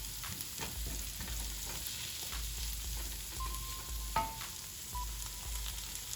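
Vegetables sauté in a hot pan for a lobster and shrimp quesadilla, giving a steady close sizzle with occasional stirring clicks and a brief utensil clink, without talk.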